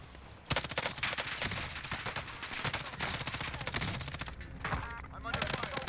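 Gunfire in the video game Warzone crackles in rapid automatic bursts, dense sharp shots repeating almost continuously across the stretch, with a voice speaking faintly underneath.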